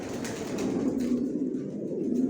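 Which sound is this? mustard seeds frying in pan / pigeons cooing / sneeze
pigeons cooing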